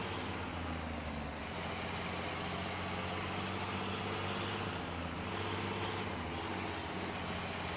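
Tractor engine idling in the video game Farming Simulator 2017, a deep, steady, beefy diesel rumble with broadband mechanical hiss, continuous and unchanging, with no voices.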